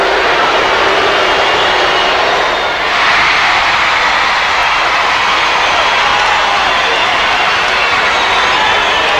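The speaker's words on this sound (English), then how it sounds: "Listen to the crowd." A packed arena crowd roars steadily and loudly through the closing minutes of a 1993 NBL basketball game between the Melbourne Tigers and South East Melbourne Magic, with a dense, continuous wall of cheering that briefly dips before swelling again.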